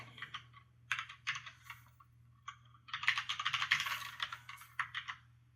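Code being typed on a computer keyboard, writing simple HTML: scattered bursts of soft, close key clicks with pauses between them, then a longer dense flurry of typing, all over a low steady hum.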